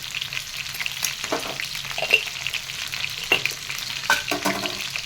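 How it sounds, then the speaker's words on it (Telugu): Sliced onions and green chillies frying in oil for chicken biryani, a continuous close sizzle broken by scrapes and clinks of a spatula stirring the pan, with no talking. "ఈ ఉల్లిపాయ ఇందులోనే వేగిద్దండి. బాగా వేగిన వాటిని 2-3 నిమిషాలు ఇలాగే వేసినాం."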